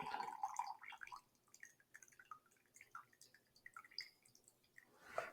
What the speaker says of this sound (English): I'm just going to drain off that liquid, make sure I get as much of that liquid out